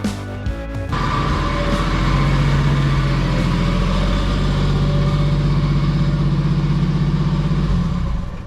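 A Jeep engine runs steadily as the vehicle is driven in, with a low, continuous hum and drone that holds fairly loud and even after a brief rougher start.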